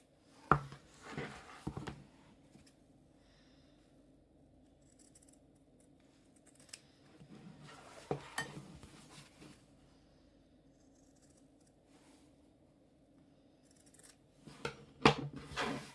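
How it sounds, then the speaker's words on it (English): Scissors cut a wide V into a booklet cover, making several brief crisp snips in bursts separated by quiet gaps, close by and with no talk. "I'm just gonna cut like a very wide V, and I'm gonna leave a little bit in the corner."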